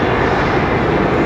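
Noisy old IAE engines on an airliner at London Heathrow give a loud, dense, steady roar close by, filling the short moment without a break.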